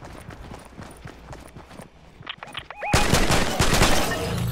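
Pistol fire exchanged between two teams in Fortnite, a rapid scatter of sharp shots and footstep-like clicks, quieter at first then a dense loud burst of firing in the last part.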